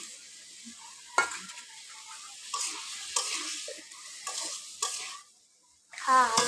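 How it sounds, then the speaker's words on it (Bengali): Mango pieces and potatoes frying with spices in a pan, with bursts of sizzling and stirring scrapes separated by quieter gaps, close and fairly intermittent, without talk. "আমগুলো মশলার সাথে একটু ভেজে নেব এবার এর মধ্যে আলুগুলো দিয়ে দিলাম"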